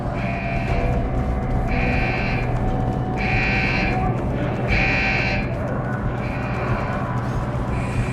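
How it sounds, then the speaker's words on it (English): An alarm buzzer sounds in Deus Ex: Human Revolution in repeated evenly spaced bursts, loud and constant over a dense rumbling background. "Hit the alarm!"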